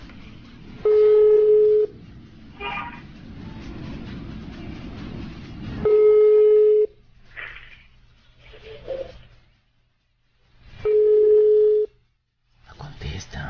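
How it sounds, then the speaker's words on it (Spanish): A phone calls a home number, sending out repeated electronic tones: three long steady beeps spaced about five seconds apart, with brief dialing blips and a person speaking in the gaps. "Le vamos a estar marcando a la casa."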